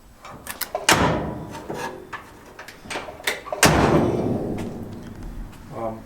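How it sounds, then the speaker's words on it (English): A Rabbit pickup door under repair swings open and shuts with a loud slam, then opens and slams again a few seconds later, each impact ringing briefly in a garage-like space, with faint rustling between. "Door opens good."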